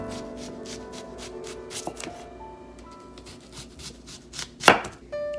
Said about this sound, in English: we're going to cut it in 1/2-inch slices.